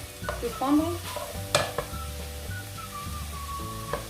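Eggplant and tomato vegetables for Moroccan zaalouk cooking in a pan with a little water, soft stirring scrapes and taps over a gentle low simmer and sizzle, close by and fairly quiet.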